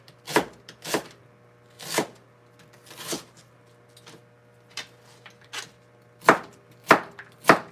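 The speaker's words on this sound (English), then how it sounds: "Yeah, I think I'm gonna need another onion though." Onion chopped with a knife on a cutting board, a dozen or so sharp, close knocks in an uneven rhythm with brief pauses, with no voices.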